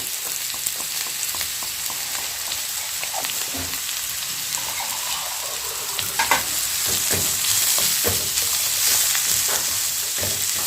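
Sprouted moth bean masala stir-fries in a pan with a steady sizzle and repeated scraping strokes of a spoon, growing somewhat louder in the second half, with no talking.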